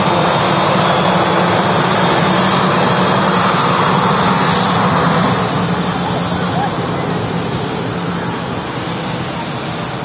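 An EasyJet airliner departs runway 23 left at a damp Manchester Airport, a loud, continuous broadband jet roar that fills the clip and slowly eases off toward the end.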